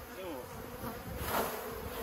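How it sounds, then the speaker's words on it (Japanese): Honeybees swarm around opened hives, a dense, steady, close buzzing drone that fills the whole stretch without a break. "いや、もうブンブン来ましたね。"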